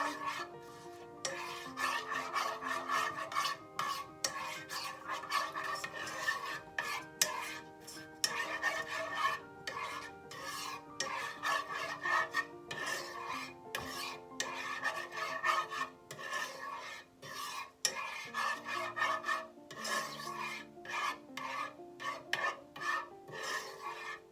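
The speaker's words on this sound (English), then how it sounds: "Then I'm going to stir this all together." Seasoned steak with Italian seasoning being stirred in a pan, making a steady rasping, scraping sound of utensil against cookware that carries on continuously for the whole stretch, close and fairly loud with no talking.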